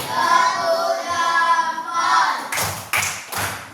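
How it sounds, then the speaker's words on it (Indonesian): Children in a classroom doing the tepuk jempol thumb-clap rhythm, a short run of sharp patterned claps arriving after a stretch of voices, close and fairly loud. "kelompok 4, kita kasih tepuk jempol sekali lagi"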